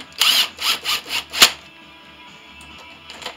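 An impact gun or power tool tightens engine oil pan bolts, giving four or five short rapid bursts of whirring and rattling followed by a sharp click, then quiet shop ambience.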